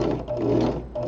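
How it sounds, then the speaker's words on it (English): A sewing machine stitches in reverse to form a bar tack on a corner seam, its steady mechanical whirring running continuously and close, with a brief dip near the end. "I'm going to hit the reverse button, and right at that second it gives me a little half stitch because it backs up the motion right at that moment"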